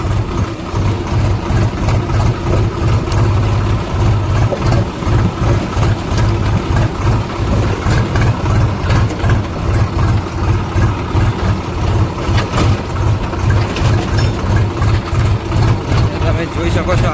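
A tractor engine runs on a waterlogged, potholed village road, a loud, steady low chugging that continues throughout, with a voice talking over it.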